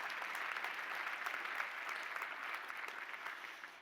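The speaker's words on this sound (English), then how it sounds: "round of applause for our panel" Steady audience applause for a panel at a diversity and talent summit fills the whole stretch, a dense wash of many hands clapping at moderate distance, easing slightly toward the end.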